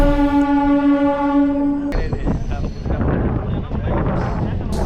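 A steady electric whine holds for about two seconds, then gives way to rumbling, clattering noise nearby as a MEMU train carriage pulls out of Ambattur station.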